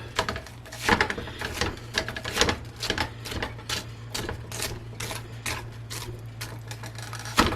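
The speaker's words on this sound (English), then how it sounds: "I'm going to take a spatula right here, then I'm going to cut into this, break this up" A metal spatula chops and scrapes at a frozen bison burger patty, giving a string of sharp, clicking taps and scrapes close up in an irregular rhythm, with no talk over it.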